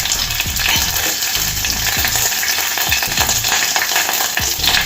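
Mustard seeds, cumin and chopped green chillies sizzle loudly and closely in hot oil, a dense continuous crackle with rapid popping spatters throughout.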